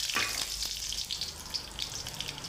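Curry leaves drop into hot oil already holding cumin and mustard seeds for paneer bhurji. They set off a close, loud crackling sizzle that carries on steadily with small spits and pops.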